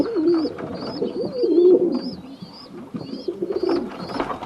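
Pigeons in an aviary give repeated low, throaty coos close by, overlapping one another, with thin high chirps scattered above them.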